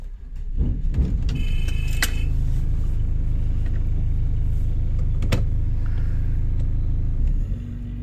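A Nanni diesel boat engine mounted at the rear on hydraulic drive cranks briefly, then catches and settles into a steady, low, even idle rumble that runs loud and unbroken to the end, with no talking over it.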